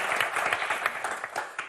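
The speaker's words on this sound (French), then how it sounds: "on vous applaudit très très fort" A TV game show studio audience for Motus applauds contestants with a dense, steady patter of many hands clapping close by.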